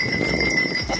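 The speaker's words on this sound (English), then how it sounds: "We're on the horses." Horses walking on a winter outing in upstate New York, their hooves clip-clopping in a steady, close rhythm against a continuous background of noise with faint bell-like tones.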